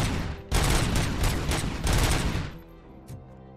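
Turret gunfire in the video game Robocop: Rogue City rattles in loud, rapid automatic bursts for about two seconds, then cuts off into a quieter tail with a faint thump.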